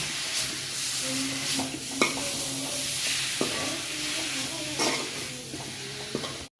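Chicken sizzles in a pan while a spatula stirs it, with repeated scraping strokes and soft clacks against the metal over steady frying hiss.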